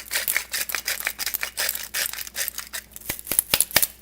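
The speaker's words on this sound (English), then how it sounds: "Come on, grinder. I'm going to add a little more salt" Salt grinder grinding salt over a pot of seafood soup, a close, dry, rapid crunching and clicking that comes in irregular gritty bursts for about four seconds, no talking.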